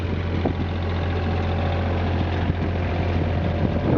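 A John Deere 1445 mower's engine idles at low throttle, a steady, loud, low rumbling drone that runs unchanged and close throughout, with no talk.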